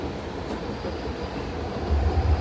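Steady rumble of a VTA light rail train in motion, heard from inside the car, with low-frequency rolling and rail noise that swells slightly louder near the end; no talking.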